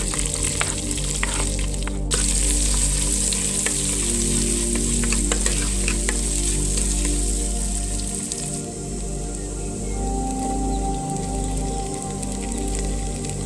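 Chopped onion sizzling steadily in hot oil and ghee with seasoning leaves, as a base for Mangalore-style clam sukka. The frying hiss is close and constant, with a few sharper crackles, and nobody speaks.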